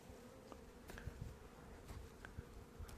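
A steady, low hum of many honeybees buzzing together at a hive entrance on a warm winter day, with individual insects zipping past close by now and then.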